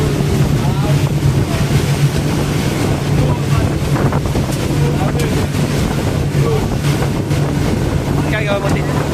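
Water splashing from a tour boat at sea on a Manta Bay tour off Nusa Penida, Indonesia: loud, continuous wash and spray mixed with buffeting wind and a low engine hum, steady throughout.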